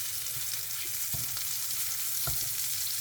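Lactarius mushrooms fry in a pan for a home breakfast, giving a steady close sizzle and crackle with a few sharper pops, and no one speaks.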